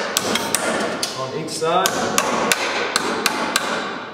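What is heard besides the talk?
hammer driving nails of an electrical box into a stud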